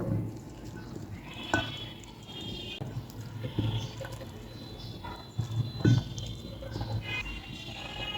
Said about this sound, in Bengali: এখন আমি মশলার সঙ্গে ফুলকপিটাকে ভালোভাবে মিশাতে থাকবো